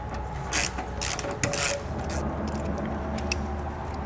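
A 10 mm 12-point socket wrench works fasteners loose on a 2016 Mercedes-Benz GLA, giving close metallic clicks and short ratcheting bursts over a low steady background hum.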